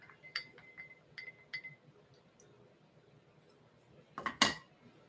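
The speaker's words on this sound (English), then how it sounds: "Give our coffee a stir." A spoon stirs brewed coffee in a Hario V60 brewer with Kenyan Murang'a AA beans, giving a few light, evenly spaced clinks and then a brief louder scraping rattle near the end, close and quiet.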